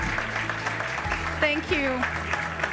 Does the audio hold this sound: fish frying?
no